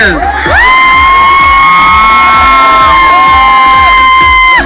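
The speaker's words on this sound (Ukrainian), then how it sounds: "Оплески Тетяні." A comedy show audience cheers loudly for a woman named Tanya, with shrill whoops and yells over a dense, continuous crowd roar that holds at full volume throughout.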